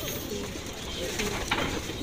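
Pigeons cooing in a loft, soft low coos blended into a dense, noisy background with some rustling.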